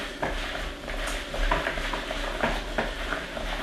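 A spoon stirs flour into cut okra in a bowl, giving soft scraping and sticky clicking strokes at a steady, close pace with no talking.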